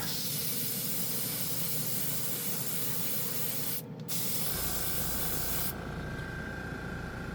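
Continuous close hiss of a spray gun laying down a top coat of paint, steady and loud, with a brief dip near the middle before the spray resumes with a slightly changed tone.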